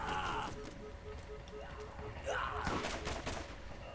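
Enemy gunfire in the video game Borderlands, bursts of shots crackling in the mid-distance under constant game sound and a voice talking.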